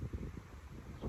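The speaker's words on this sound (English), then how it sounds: "What is this wind bringing?" Wind blows steadily outdoors with low rumbling gusts buffeting the microphone, a continuous moderate roar throughout with no speech.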